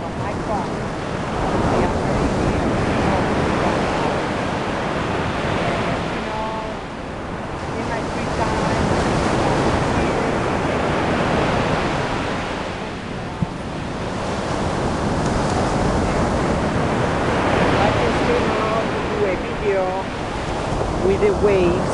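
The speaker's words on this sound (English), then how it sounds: "With the waves" Mediterranean sea waves break on the shore in a continuous loud wash of surf with slow swelling surges, mixed with wind buffeting the microphone.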